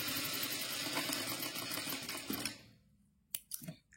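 A Jack F4 sewing machine runs at fast speed with a dense, steady, close mechanical whir for about two and a half seconds, then stops, followed by a few faint clicks and handling knocks.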